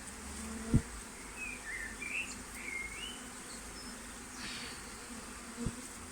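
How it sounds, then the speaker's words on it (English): A low, steady drone from a swarm of bees hums in the background with a few faint bird chirps and two soft thumps; the buzzing sounds spread out rather than close. "there are loads of bees flying around"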